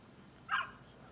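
A single short dog bark sounds in The Division 2 video game, one brief mid-distance woof standing out against a quiet background.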